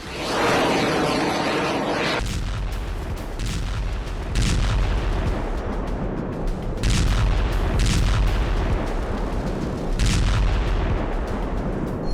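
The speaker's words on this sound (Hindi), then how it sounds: "जेनेरलिस्मो सुवोरोव पनडुब्बी ने व्हाइट सी में रहने के दौरान इस मिसाइल को दागकर अपनी ताकत का लोहा मनवाया।" A Bulava ballistic missile launched from the submarine Generalissimus Suvorov in the White Sea during a nuclear exercise: a loud sustained roaring rumble with several heavy booming surges, no voices.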